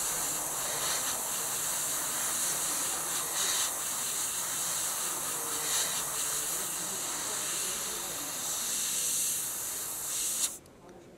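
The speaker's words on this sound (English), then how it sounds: "I'll just spray it on the underside so you can see the." Paint sprayed from an airbrush onto the underside of a model, mixed to an orangey, rusty brown-grey tone: a steady close hiss runs unbroken for about ten seconds, then cuts off abruptly.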